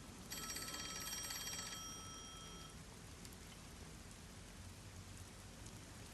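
A telephone rings in the detective video game Rain Code, a bright electronic trill for under two seconds that then fades, over a steady background of pattering rain.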